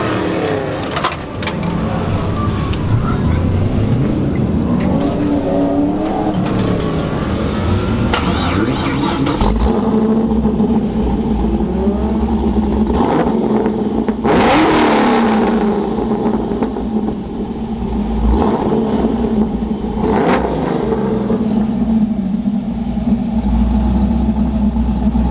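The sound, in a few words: car starting up and revving through stainless oval exhaust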